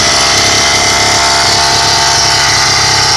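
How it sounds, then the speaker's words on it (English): A small Zeta two-stroke engine on a motorized bicycle runs steadily at close range, a loud, buzzing, continuous drone with no talk over it. "Little Zeta motor on there."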